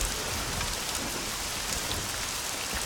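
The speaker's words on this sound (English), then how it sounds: "It's pouring down rain." Heavy in-game downpour in the survival game SCUM, a steady dense hiss of rain hitting surfaces that holds at an even level throughout with no voices over it.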